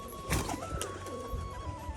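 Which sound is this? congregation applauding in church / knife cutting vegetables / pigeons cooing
pigeons cooing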